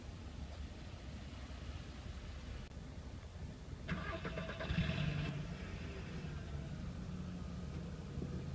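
A parked car's engine cranks and catches partway through, with a brief louder burst as it fires, then settles into a steady idle; no one speaks.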